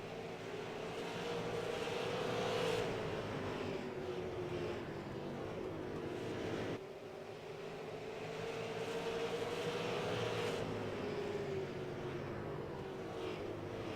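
Stock race cars at Oxford Plains in a SARA Super Series 150-lap race: a continuous, distant engine roar with rising and falling pitch as the cars circle the track, and no voices.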